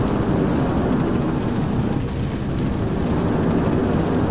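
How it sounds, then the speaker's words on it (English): Boeing 747 reverse thrust roaring in Flight Simulator X during a landing rollout, a loud, steady broadband jet rumble that holds constant with no speech. "Reverse thrust engaged."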